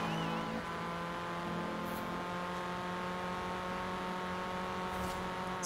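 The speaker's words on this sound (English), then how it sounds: "Ooh, rotary engine back there. Honda S2000 racing us." Cars racing on a track, including a rotary-engine car and a Honda S2000, heard as a steady loud engine drone with sustained harmonic whine from inside a moving car, no talking.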